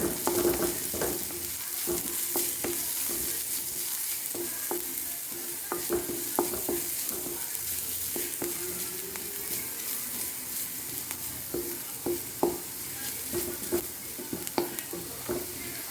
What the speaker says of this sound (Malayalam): എണ്ണയിലെ കടുക് പൊട്ടിച്ചു സവാള വഴറ്റി അല്പം മഞ്ഞൾപ്പൊടി അല്പം മുളക് പൊടി ചേർത്ത് വഴറ്റി